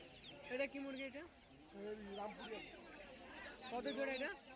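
Fighter chickens at Galif Street pet market in Kolkata give repeated clucks in several short phrases, close by, while a person talks over them.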